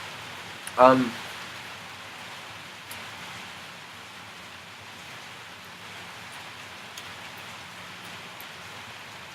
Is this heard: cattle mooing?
no